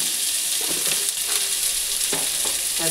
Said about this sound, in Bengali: তিনটেই এবার ভাজা হোক আস্তে আস্তে